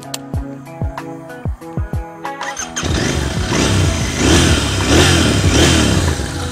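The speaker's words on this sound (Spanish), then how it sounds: "Vamos a hablar un poco de lo que es este motor y de los detalles. El sonido es muy particular." A Royal Enfield Interceptor 650 twin with a 270-degree crankshaft cranks through several separate starter pulses, then catches and runs close and loud with a throbbing, uneven beat.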